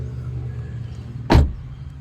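A Toyota Wigo's back door opens with a single short, solid clunk about two-thirds of the way in, close by, set against a low steady background hum.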